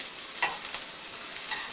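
Zucchini slices fry in olive oil in a pan with a soft, steady sizzle and a light clink or stir near the start, close and fairly quiet with no talking.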